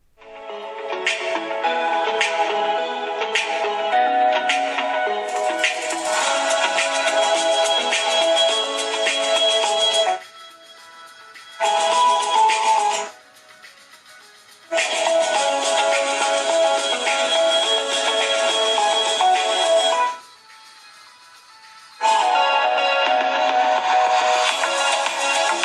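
Music plays through the single bottom-mounted speaker of a Doogee V20 rugged phone, loud and thin-sounding, in several long stretches broken by brief quieter gaps.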